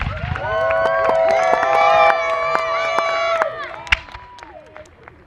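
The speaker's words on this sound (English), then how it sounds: "I want everybody to give a little cheer for Craig." A reenactment crowd at the Battle of Fort George gives a loud, steady cheer and shouts for a newly named Crown Forces commander, sustained for about four seconds with bright overlapping voices before trailing off.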